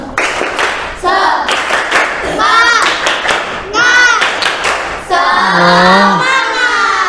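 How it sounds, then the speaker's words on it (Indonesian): An Islamic religious education class does a rhythmic spirit clap, with sharp group claps and thumps marking a set pattern between loud chanted children's voices, close and energetic throughout. "tepuk semangat dulu ya, biar tetap semangat"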